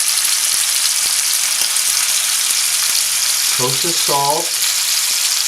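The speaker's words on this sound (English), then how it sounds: "We're going to get our pork in the grill, or the pan I should say, like that." Boneless pork chops sizzle in a frying pan with a loud, steady crackling hiss throughout, as someone briefly speaks over it near the end.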